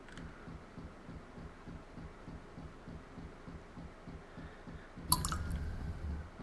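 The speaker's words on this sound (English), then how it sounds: "An echo of lone water drops fill the air." Steady quiet drips of water echo through a basement in the video game Fear and Hunger, falling in a regular rhythm before a brief sharp noise breaks in near the end.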